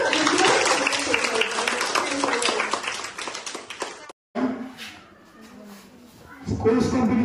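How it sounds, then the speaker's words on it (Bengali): Students at a school Constitution Day celebration clap together in a dense round of applause that stops abruptly, followed by quieter room sound and faint voices before a brief renewed patter. "তো সবার জন্য জুড়ে একটা হাততালি দাও।"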